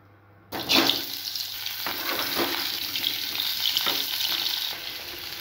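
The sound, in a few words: frying pointed gourd (potol)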